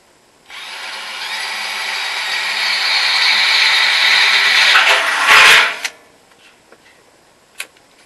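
A power drill runs steadily for several seconds, its whine rising as it bites through a metal washing machine drum to drill the main hole, then cuts off, followed by a couple of clicks.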